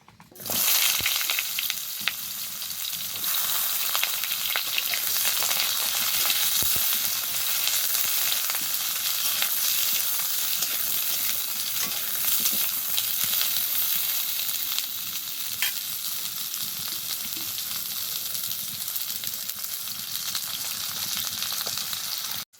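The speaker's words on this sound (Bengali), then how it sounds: "এবার ভাজবো পটল।" Pieces of pointed gourd (potol) frying in oil in a pan, a steady crackling sizzle close by that holds throughout, easing slightly partway through.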